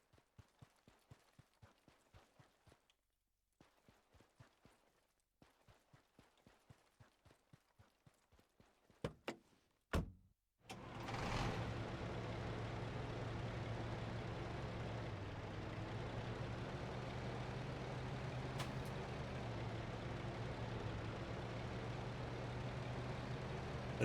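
A truck in the war game Foxhole, with footsteps clopping at first and then a steady, loud engine drone starting up and running on without pause.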